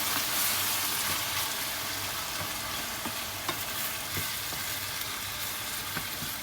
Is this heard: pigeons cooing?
no